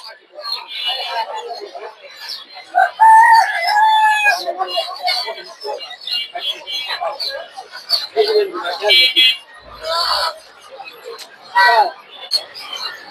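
Chickens and ducks, including farm chickens and Chinese ducks, at a busy Sunday poultry market in Tongi, Dhaka, with clucks and crowing close by, mixed with steady chatter from people nearby.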